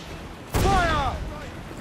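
A ship's cannon broadside in Assassin's Creed IV Black Flag booms out suddenly, one heavy blast followed by a rumbling tail, with a shouted voice over the top.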